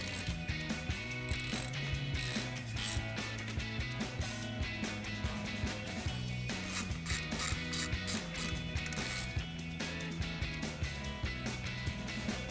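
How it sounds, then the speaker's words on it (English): A ratchet with a 14 mm socket tightens bolts while fitting brake rotors on a 2015-2023 Mustang EcoBoost, giving quick repeated clicking strokes in bursts that are close and fairly quiet. "we'll tighten them down using our 14 millimeter socket."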